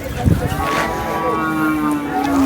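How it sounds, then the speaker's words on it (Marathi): Cattle moo in a long, drawn-out call over a busy outdoor din at the Sangola bull market, with other animal sounds and faint chatter around it. "आज आपण आलोय सांगोला येथील बैल बाजारात"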